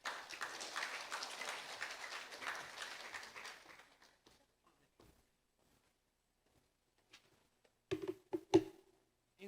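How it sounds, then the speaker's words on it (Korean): Soft, distant clapping from a training-session audience in a presentation hall, welcoming a presenter; it lasts about four seconds, then fades into near silence broken by a few faint knocks and handling noises. "여러분 박수로 좀 청해 주시기 바랍니다"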